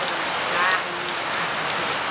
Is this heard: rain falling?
yes